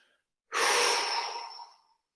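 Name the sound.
exhaling breath during mobility exercise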